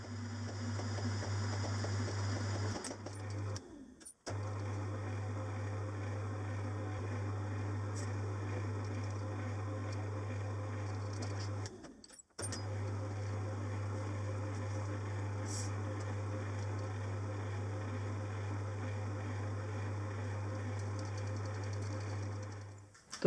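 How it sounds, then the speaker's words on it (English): A small metalworking lathe spins a 1/8 inch reamer through a cylinder end cover for a Stuart Progress oscillating steam engine, a steady motor hum running alone with two short breaks where it stops and restarts. "put the 1/8 inch reamer in and then run through with the reamer"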